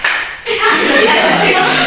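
A classroom of students claps together during a teacher-led clapping game, a dense burst of hand claps starting shortly in and carrying on steadily to the end, mixed with voices.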